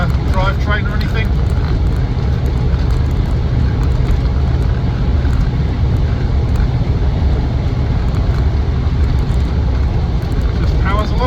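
A Land Rover Defender 90 50th Anniversary with an automatic gearbox cruises at 60 mph, producing a loud, continuous low road and engine drone with wind rush inside the cabin and brief voices at the start and end.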